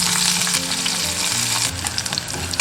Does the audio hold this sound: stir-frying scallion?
yes